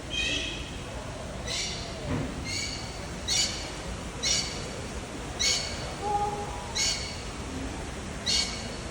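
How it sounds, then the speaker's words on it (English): A bird calls repeatedly outdoors at a bird sanctuary in British Columbia, Canada, short bright squawks spaced about a second apart, moderately distant, with faint background noise and a brief voice. "Might be a bird over there."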